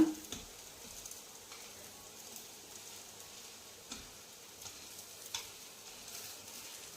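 Dosa batter spread thin across a hot pan gives a steady, soft sizzle, faint and even throughout with a few small crackles and no voices.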